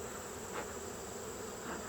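Honeybees buzz steadily around an open beehive during honey super removal, a dense, continuous hum close by with no voices.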